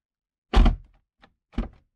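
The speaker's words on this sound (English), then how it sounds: "show me how you open the door" A car door on a Porsche Panamera 4S is opened by its handle: a dull thunk, a faint click, then a second softer thump, close by with no talking.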